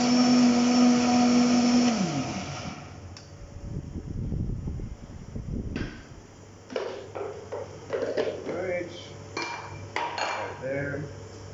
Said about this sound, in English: High-powered blenders are great.